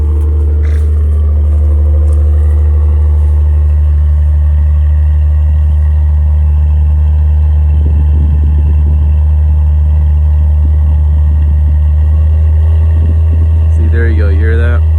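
A wrecked Maserati with a turbocharged engine runs in sport mode, a loud steady low idle drone with faint irregular fluttering, occasional mechanical chatter and a brief higher warble near the end.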